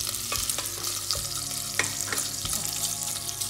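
Small bits for spaghetti carbonara fry in a pan with a steady close sizzle, broken by several soft stirring scrapes and taps, with no talking.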